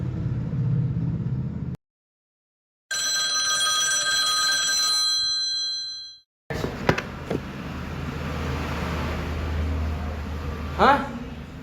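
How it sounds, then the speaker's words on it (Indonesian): A telephone bell rings loudly in a short film about the Indonesian proclamation, a sustained ringing burst after a brief silence, with room noise and a voice speaking afterward. "Dia menerima telepon dari penyiar radio"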